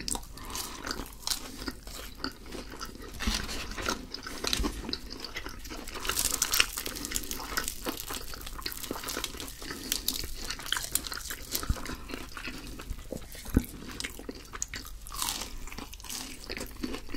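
Someone bites and chews McDonald's fried chicken and burgers, producing close, crisp crunches and wet chewing and smacking sounds in an irregular rhythm throughout, with no talking.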